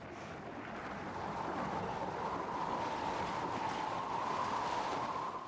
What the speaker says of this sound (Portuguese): Deus então invocou uma violenta tempestade.